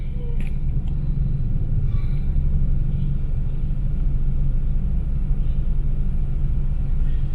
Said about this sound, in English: So it's quite traffic around here.